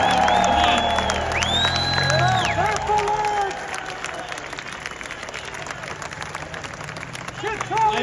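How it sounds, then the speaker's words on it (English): Crowd at a live anti-abortion protest in Sydney bursts into applause and cheering, loud and close at first, then easing into scattered clapping and murmuring voices before a brief swell at the end. "Can I get a big cheer for those members?"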